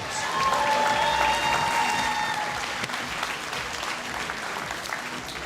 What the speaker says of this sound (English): let's give these two competitors one more round of applause